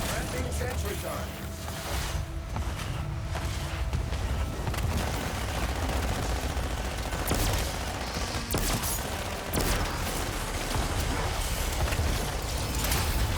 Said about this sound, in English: Landing sentry turret.